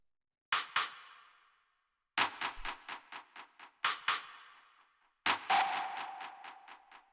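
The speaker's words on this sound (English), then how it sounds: "the last thing we have here is the percussion, which altogether sounds like this." A techno percussion loop built from a clap and processed white noise bursts, sharp hits each trailing into rapid echoing repeats, in four separated phrases with silence between.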